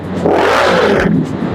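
Honda Rebel 500 motorcycle with a new exhaust revving up and settling back, a steady deep bassy engine note close by, with no backfire.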